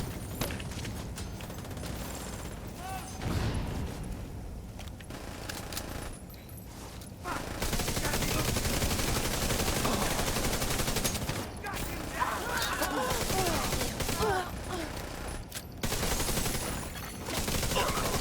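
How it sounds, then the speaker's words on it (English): Bursts of rapid gunfire from a shooter video game rattle through continuous game sound, with repeated volleys of automatic fire and some quieter stretches between them. "Good headshot, Huncho."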